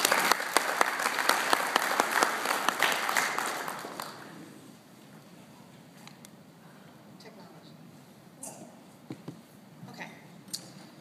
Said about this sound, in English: let's please just give a round of applause